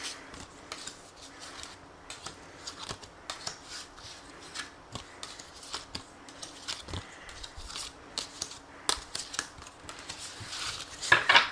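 Tarot cards being shuffled and drawn from a deck, giving a steady run of close, dry rubbing and flicking sounds that grow louder toward the end, with no talking.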